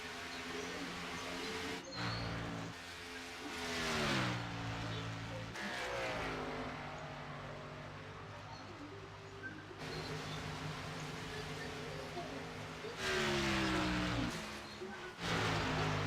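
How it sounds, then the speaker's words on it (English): Race cars at Michigan International Speedway lift off the throttle as they enter a corner, their engine notes dropping in pitch and rising again as they pass, heard at a distance under continuous commentary. "You can hear the cars are lifting out"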